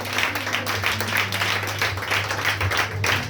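A French-speaking church congregation applauds, giving sustained clapping that pulses in steady rhythmic bursts at moderate loudness, with no voices over it.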